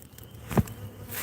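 Honeybees buzzing around an open backyard hive, with one angry bee sweeping close past in a brief, louder buzz before fading back into a faint, steady hum.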